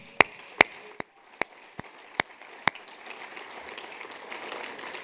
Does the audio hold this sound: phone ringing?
no